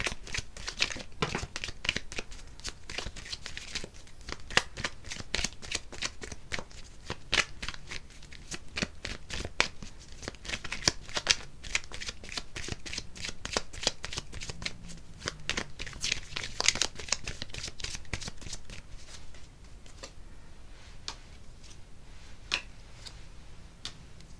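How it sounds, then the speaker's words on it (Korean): Tarot cards being shuffled by hand: rapid, crisp riffling clicks that come in dense bursts for about twenty seconds, close and fairly quiet, with no talking. "제가 추가 카드를 한번 뽑아볼게요"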